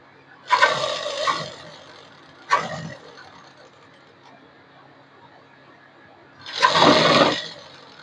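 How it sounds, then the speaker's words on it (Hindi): Sewing machine stitching the final seam of an apple cut kurti, heard as three loud, close bursts of whirring stitching separated by quiet pauses, the last run the longest. "अब हम यहाँ पर फाइनल सिलाई हमारी लगाते जाएंगे"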